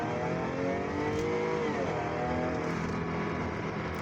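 Supercharged 550-horsepower Jaguar F-Type R accelerating hard, a loud continuous engine roar climbing in pitch through the gears before easing, close by and heard on its own.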